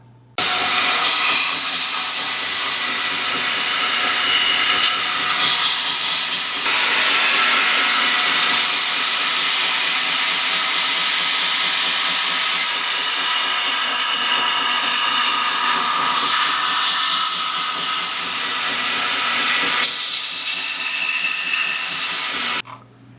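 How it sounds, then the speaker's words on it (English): A belt grinder grinds the face of a knife scale held in a 45-degree chamfer jig, giving a loud, steady abrasive hiss that swells and eases in long passes with brief pauses between them. "So I'm going to take the face of the scale, put it in, and then grind down to that line."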